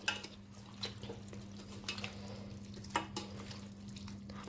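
Chicken curry ingredients stirred in a pot with a spoon, producing soft intermittent scraping and clinks over a steady low hum, fairly quiet and with no voices.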